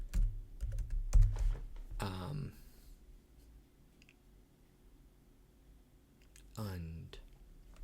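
Keys tapping on a Windows ergonomic computer keyboard plugged into a Mac, a few quick close clicks near the start that then thin to a near-silent stretch, with brief bursts of a voice speaking.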